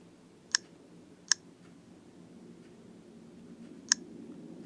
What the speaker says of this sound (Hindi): इसका बटन्स में जब क्लिक करूंगा साउंड सुनो।